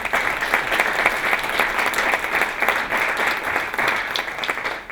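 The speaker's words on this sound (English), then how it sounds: "Could we give them all a big round of applause?" A seated lecture audience gives steady, sustained applause to event sponsors, even in level throughout without talk.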